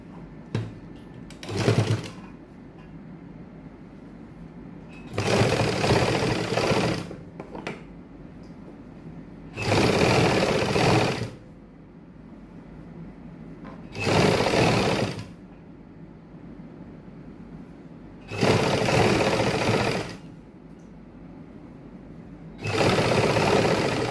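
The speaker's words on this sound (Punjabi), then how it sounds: "ਆ ਵਾਲੀ ਲੈਸ ਦੇ ਆਪਾਂ ਇਸ ਤਰੀਕੇ ਨਾਲ ਹੀ ਫੋਲਡ ਕਰ ਦਾਂਗੇ ਤੋਂ ਉੱਪਰ ਆਪਾਂ ਟੌਪ ਸਟਿਚ ਲਾ ਦਾਂਗੇ" Sewing machine top-stitching lace onto a sleeve, running in five or six short bursts of steady whirring stitching separated by quiet pauses, close and clear.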